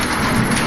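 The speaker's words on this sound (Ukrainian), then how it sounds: "Діти, це звук літньої грози," A summer thunderstorm with thunder close by: dense, steady rain hiss fills the whole short stretch over a low rumbling undertone, loud and unbroken, with no voices.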